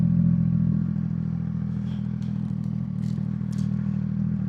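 A 2026 CF Moto 675NK motorcycle rolls along slowly during a brake test. A steady low engine burble is heard from the rider's position, with light clatter and faint ticks over the top.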